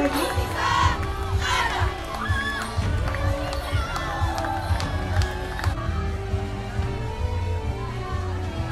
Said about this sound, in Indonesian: boleh kita beri tepuk tangan yang paling meriah sekali lagi